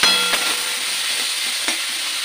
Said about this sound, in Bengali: আমি চাপা দিয়ে সেটা আগে ভেজে নেবো।